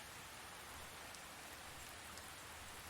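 Steady rain patters against a cabin's glass window pane, a soft, even wash of drops that holds at a constant low level throughout with no voices.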